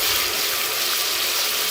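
A little water poured into a cooking pot of frying onion paste and spices, a dense continuous rushing splash close by, steady throughout with no talk.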